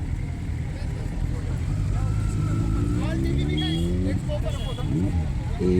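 Big motorcycle engines rumble and rev at the Suzuki Matsuri biking festival in Hyderabad, a loud, continuous low drone with rising revs, mixed with crowd chatter and nearby voices.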